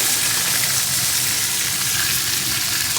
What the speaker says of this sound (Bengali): এখন এই তেলের ভিতরে দিয়ে দেবো টুকরো করে কেটে রাখা বেগুন বেগুনটাকে আমি একটু ভেজে নেব